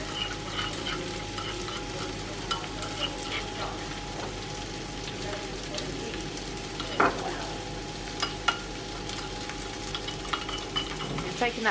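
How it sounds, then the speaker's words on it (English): Lamb frying in a pan, a constant close sizzle with crackles and pops, broken by occasional louder spits and a clank near the end. "you put it in a pan, and now the lamb has gone in"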